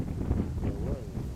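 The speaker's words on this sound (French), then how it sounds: "Pas l'idéal, le vent." Steady low wind rumble buffeting the microphone, with faint voices murmuring underneath.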